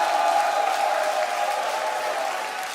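A StarCraft 2 WCS Premier League tournament crowd gives a standing ovation, with dense, sustained applause and cheering that fill the hall and fade slightly over nearly three seconds.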